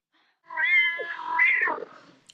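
A single drawn-out cat meow from a 1972 film, clear and close, rising and then falling in pitch, with near silence before it and a small click at the end.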